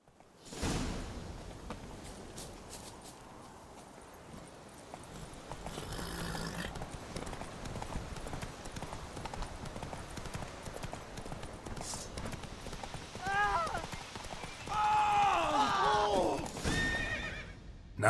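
Horse in The Witcher 3 game: rhythmic clip-clop of hooves over most of the clip, with a loud neigh near the end and game ambience, no speech.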